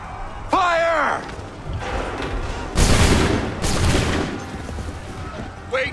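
Musket volley fired by a line of soldiers in Assassin's Creed 3 at the battle of Lexington and Concord, loud crackling bursts rolling over a few seconds amid shouted commands and battle noise.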